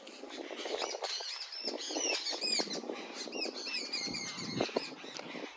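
House sparrows chirp busily in an afternoon setting, a dense flurry of overlapping tweets and short calls close by, continuous and lively with no talking.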